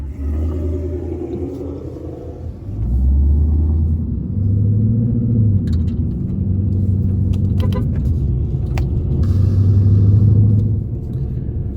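A car engine in a Mustang S650 rumbles low and steady, rising as the car pulls away and holding a deep, close drone with faint clinks over it and no talking.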